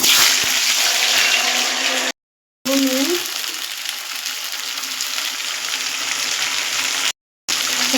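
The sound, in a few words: vegetables added to hot oil and frying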